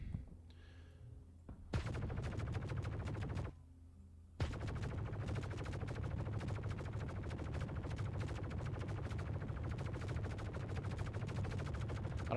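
Sustained rapid automatic weapon fire in Star Citizen, long loud bursts of fast repeating shots with a brief pause between them, close and dominant with no talking over it.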